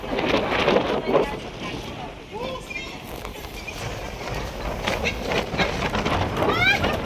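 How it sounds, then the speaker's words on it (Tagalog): Strong wind at a viewing deck roars and rushes across the microphone continuously while people talk and call out over the noise. "May kalakas ang hangin."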